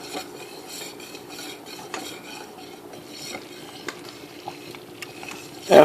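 A spoon stirring grits in a pot on the stove, soft scraping and occasional clinks against the pot in an uneven rhythm, with a louder knock at the very end.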